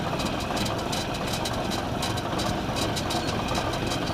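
Engine of a homemade mini auto rickshaw running steadily, a loud continuous idling drone with a rattling vibration and no pauses.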